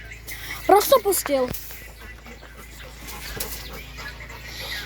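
A dog pants and whimpers close by, with short yelpy vocal sounds early on, followed by softer background noise and breathing.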